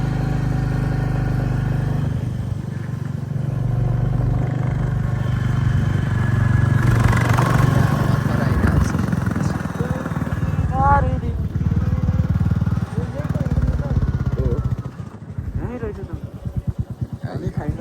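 A motorcycle engine drones steadily at a moderate level on a Himalayan ride in Mustang, Nepal, from Thini toward Muktinath, with a voice speaking over it through much of the ride.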